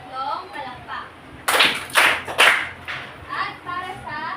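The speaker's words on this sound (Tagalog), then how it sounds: "Bigyan nga natin siya ng 3 palakpak." A classroom group gives three sharp, rhythmic claps in a row, loud and close, with a teacher's voice speaking before and after.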